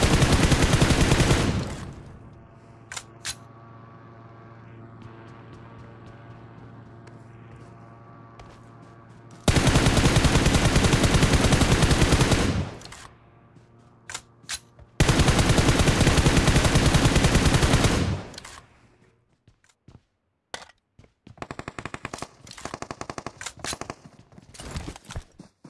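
Gunfire in the mobile battle royale game BGMI aimed at an enemy glider, long loud bursts of rapid automatic fire separated by quieter gaps with scattered single shots and footsteps.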